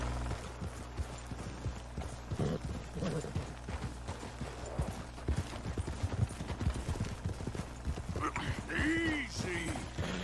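Horse hooves clip-clopping on the ground in the video game Red Dead Redemption 2, a quiet uneven patter of steps under a voice talking and game sounds.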